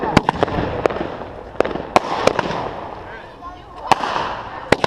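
A small backyard fireworks cake fires during a Fourth of July show, giving a series of sharp, irregular cracks and pops over a continuous crackle and background murmur.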